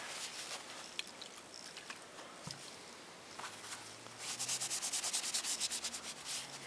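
Alcohol being rubbed onto a Glock magazine for a G21 to degrease it, a close, soft scrubbing and sanding-like friction that turns denser and more rhythmic toward the end, with no talk.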